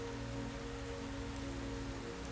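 Soothing, steady rainfall patters evenly on a surface, a dense and constant wash of drops with a low background hum and no voices.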